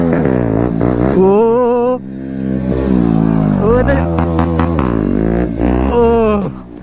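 A motorcycle revs hard while pulling a wheelie, its engine note rising and falling in loud close sweeps, largely covered by excited talking from the rider.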